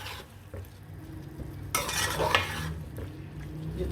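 Vegetables fry in masala in a pan for vegetable pulao, with a soft steady sizzle and a spoon stirring and scraping against the metal, loudest in a brief burst midway.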